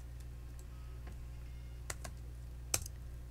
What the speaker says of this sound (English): I'm gonna close this and type the name